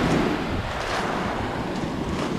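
Ocean surf along the Puerto Rico coast, a steady broadband wash of waves mixed with wind buffeting the microphone, continuous and fairly loud with no voices.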